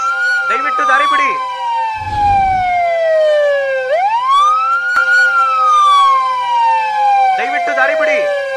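Ambulance siren wailing loudly nearby, long sweeping tones gliding down and back up, with short bursts of people talking at the start and end and a brief rumble in between.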